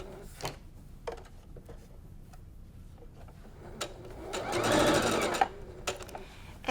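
A sewing machine backstitches across the end of a quilt top, with a short, faint whirring run of stitches in the middle surrounded by quiet clicks and handling noises.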